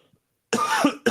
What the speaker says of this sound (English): I'm having a little coughing attack.